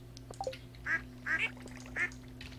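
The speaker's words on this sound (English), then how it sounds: "I'm so sad that the ducks don't have water." Ducks on a farm in the game Stardew Valley quack a few times in short separate calls over a steady low background hum, fairly faint.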